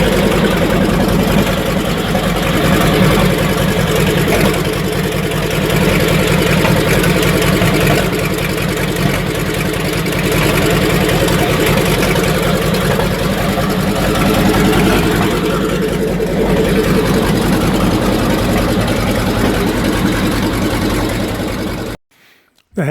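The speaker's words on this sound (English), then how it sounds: "there's the tank running on the Sherman with the engine hatch open" A Sherman tank engine runs with its engine hatch open at a D-Day commemoration, a loud, steady rumbling idle that continues unbroken for a long stretch, with voices talking faintly underneath, before it cuts out abruptly at the end.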